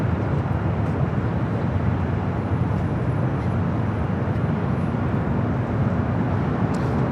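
An airliner arriving at Los Angeles LAX, a rare north side arrival, gives a steady broadband jet roar at constant loudness for the full stretch, no voices over it.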